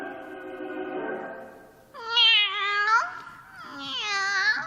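A cat meows several times in close succession, loud and near: a long drawn-out call followed by two sharper, higher meows with a short pause between.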